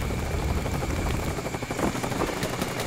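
Cobra attack helicopter in Call of Duty Black Ops, a steady loud rotor and engine drone filling the whole stretch alongside dense game battle noise, with no pauses.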